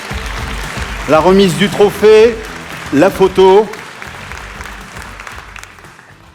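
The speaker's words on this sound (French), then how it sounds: "Et on peut encore les applaudir très très fort." Audience applause at a French business awards ceremony in the Cher, a steady broad clatter running under a host's amplified speech as trophy winners come forward, fading toward the end.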